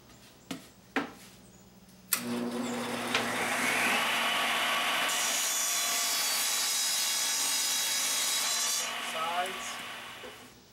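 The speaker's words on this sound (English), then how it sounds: "let's cut the first piece of wood" A power saw cuts through a piece of wood, a few sharp knocks and then a loud, steady whining roar lasting several seconds before it winds down, heard alone.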